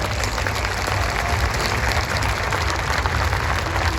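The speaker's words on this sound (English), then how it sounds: "I'd like to hear a huge round of applause." Round of applause for the teachers from a large crowd in a school hall or event venue, a dense, even wash of clapping at steady loudness throughout with no talk over it.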